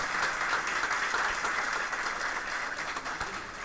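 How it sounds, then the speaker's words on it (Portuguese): Audience applause at the 2013 José Alencar ethics award ceremony, a steady, moderately distant patter of many hands clapping with no break throughout. "a quem agradecido peço uma salva de palmas"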